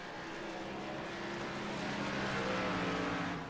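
Race car engines drone in an ARCA-style stock car racing game, with a steady blended roar rising slightly in loudness as the cars pass, continuous and moderately distant.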